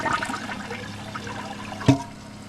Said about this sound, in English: Here's the second flush for whatever is water left in the tank.